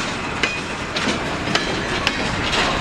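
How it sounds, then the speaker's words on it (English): Long freight train loaded with pulpwood rolling past nearby, wheels clicking over rail joints in a steady rhythm of sharp clacks under a continuous rumble, with no talk. "nice long train."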